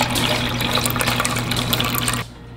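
Water pours steadily into a container, measured out for marraqueta bread dough, a continuous close splashing stream with a low pump-like hum underneath, stopping abruptly near the end.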